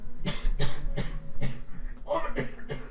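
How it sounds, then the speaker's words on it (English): A rapid series of about eight harsh coughs in a steady rhythm, close by and fairly loud. "Just keep coughing."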